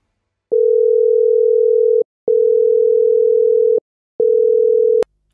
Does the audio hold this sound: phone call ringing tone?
yes